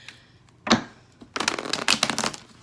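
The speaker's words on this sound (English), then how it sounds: "I'm going to go ahead and shuffle everything." Tarot cards are shuffled close up: a single riffle snap, a brief pause, then a longer run of dense, crisp fluttering and slapping that continues to the end.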